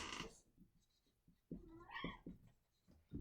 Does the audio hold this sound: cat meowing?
yes